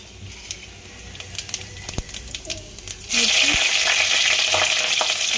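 Cumin seeds drop into hot oil for a Hyderabadi chicken masala curry, bursting into a sudden loud, dense sizzle that holds steady after a stretch of quieter clinks and talk.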